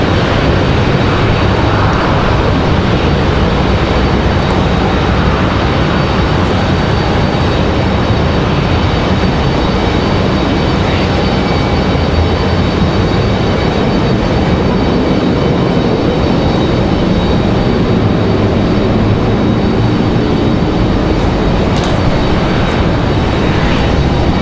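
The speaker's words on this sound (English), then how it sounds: "Got this A319 ready to roll." Airbus A319 jet taking off at Raleigh Durham International Airport, a loud, steady, broadband engine roar that fills the whole stretch without letting up, mixed with wind buffeting.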